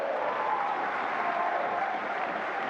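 A stadium crowd at a Singapore Premier League football match between Lion City Sailors and Tampines Rovers, reacting to a player's tricks with a broad, steady roar of cheering and murmur that holds evenly throughout.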